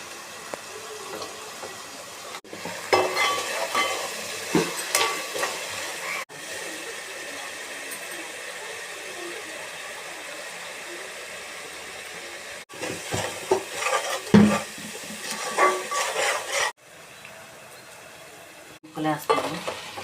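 Mutton pieces fry in a pan with a low steady sizzle, broken by bursts of scraping and clattering as they are stirred, with quieter pauses between.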